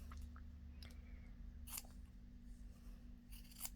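Scissors cut a lighter-weight linen fabric scrap, giving a few short, crisp snips spaced apart over a steady low background hum.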